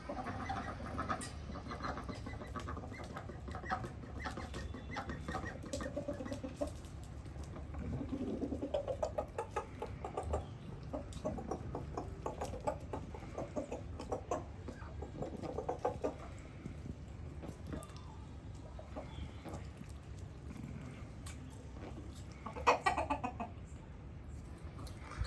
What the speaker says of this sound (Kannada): ನೋಡಿ ಇದು ಹೇಗಿದೆ, ಜುಟ್ಟು ಕೋಳಿ ಅಂತ ಹಿಂದೆ ಇರೋದು